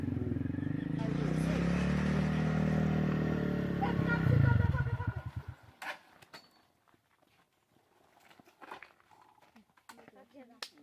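A motorcycle engine idles and revs nearby for several seconds, loud and steady before cutting off abruptly, followed by scattered clatter and people talking.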